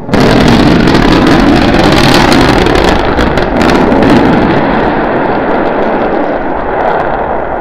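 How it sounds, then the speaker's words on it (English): Starship SN9 prototype rocket engines relighting for the landing burn, a loud, continuous broadband roar with crackle that holds steady for several seconds and eases slightly toward the end, no voices. "We're preparing to restart two engines, flip the vehicle vertical, then transition to one engine for the landing burn."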